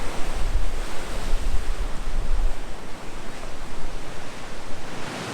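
Rough sea surging against a rocky coastline, a loud continuous roar of breaking waves and surf mixed with gusting wind buffeting the microphone, no voices heard.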